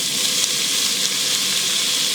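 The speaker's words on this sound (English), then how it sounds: "we're going to take about 4 ounces of diced bacon. And we're going to just cook this, browning it lightly" Diced bacon frying in a Dutch oven, browning lightly with a steady, loud, dense sizzle that stays even and unbroken throughout.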